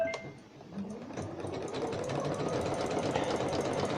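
A sewing machine runs zigzag stitches on a peg bag, a rapid mechanical chatter that starts up after a brief pause and keeps a steady pace, close and fairly loud, with no speech.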